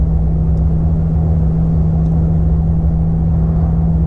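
Toyota Tacoma truck cruising at 55 mph in 6th gear, heard from inside as a loud, steady low engine drone and road rumble with a constant hum, no talk.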